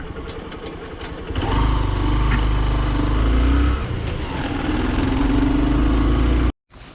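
A motorcycle engine runs loud and close, climbing a dusty mountain trail in Ramaroshan in Nepal's Far West. It holds a steady, rough drone for several seconds before cutting off abruptly near the end.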